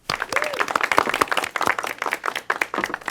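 A small group applauds at an evening drinks show, a few people clapping in distinct, uneven bursts close by, the individual claps easy to pick out and fairly light overall.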